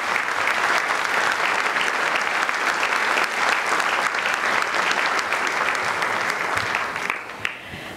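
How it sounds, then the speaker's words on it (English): An audience at the Ethnic Business Awards 2009 ceremony applauds loudly and steadily for several seconds, a dense, even clapping that starts to fade near the end. "How about a big round of applause for the wonderful Carla Zampatti?"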